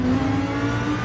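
A GT3 race car in Gran Turismo 7 holds a steady, loud engine drone with a strong sustained tone, revving continuously through the whole second with no voices.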